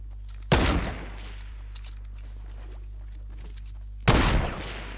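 Two loud gunshot blasts from Fortnite ring out about three and a half seconds apart, each with a quick decaying tail over a low steady hum.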